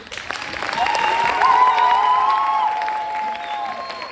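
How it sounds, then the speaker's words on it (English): Audience applause after a high school performance of Alice in Wonderland, a swelling burst of clapping with cheering and whoops, loud and close, peaking mid-way then easing off. "Just a round of applause for these people again."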